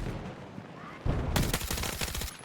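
KORD-6P67 rifle firing a rapid burst in the video game Battlefield 6, after a quiet stretch with faint background noise, loud and close.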